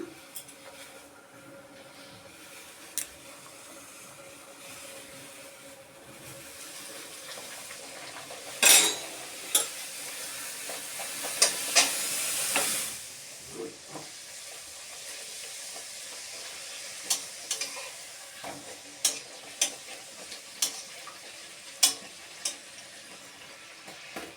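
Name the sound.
kochuri frying in hot oil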